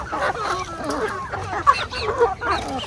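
Chickens at a poultry farm in General Santos City give a run of clucks and squawks close by, repeating irregularly over a low background hum, with no talking.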